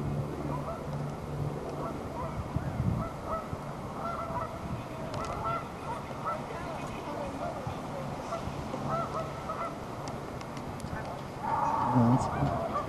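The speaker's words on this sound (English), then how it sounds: "Too bad, there's your geese." Geese honking repeatedly at a moderate distance over a steady outdoor background in Winnipeg, with a louder burst of calls near the end.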